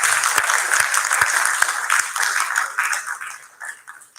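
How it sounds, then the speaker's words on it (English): Audience applause at an arangetram, a classical Indian dance debut, as performers in traditional clothing are cheered; steady dense clapping that thins and fades toward the end. "Give them a round of applause."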